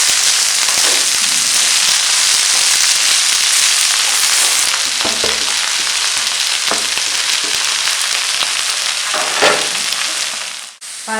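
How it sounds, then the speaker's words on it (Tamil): Ajwain leaves (omavalli) and mint sautéing in a hot pan give a steady, close, loud sizzle with popping crackles and occasional stirring scrapes, with no voices over it. "நல்லா வதக்கணும்"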